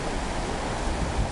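The Etchemin River runs past in a continuous rushing wash, a steady, full noise of flowing water with no breaks and no voices.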